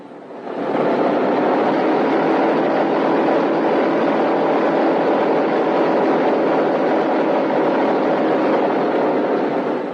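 Multiple radial piston engines of a 1943 B-17 Flying Fortress bomber run steadily at high power, a loud, continuous broadband roar that rises in the first half second and then holds unchanged, with no voices.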